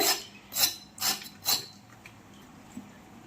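Ridge gourd skin being shaved off with a peeler, four quick rasping strokes in a steady rhythm up close, followed by quieter handling with one small click near the end.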